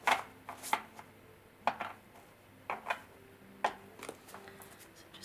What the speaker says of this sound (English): So just give them a bit of a shuffle.